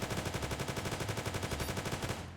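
Rapid automatic fire from a new AK-like rifle in the Roblox game SCP: Site Roleplay, a fast, evenly spaced stream of close, punchy shots lasting a couple of seconds before a short tail.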